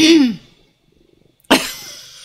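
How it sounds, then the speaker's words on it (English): Two short, harsh coughs, one at the start and another after a brief silence, close and fairly loud with nothing else going on. "I'm coughing."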